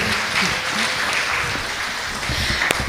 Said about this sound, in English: Give applause for Dr. Pangkok Lun.